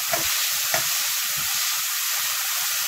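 Chopped onion, ginger and garlic sauté in oil after cumin tempering, a constant bright sizzle with a few soft knocks of a stirring spoon against the pan.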